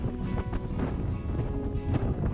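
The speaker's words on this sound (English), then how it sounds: "Pretty bloody windy up here." Strong gusts buffet a high bluff at Rawnsley Park Station in outback Australia, a dense, steady low rumble of wind noise against the microphone with brief bursts, loud and close throughout, no one talking.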